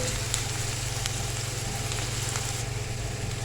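Onions sizzle in hot oil in a home kitchen pan, a steady close frying hiss with small pops scattered throughout.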